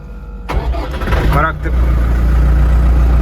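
Kentavr S 504CU tractor engine starting: a short cranking whir, then the engine catches and settles into a loud, steady low idle, close by, with a voice heard over the start.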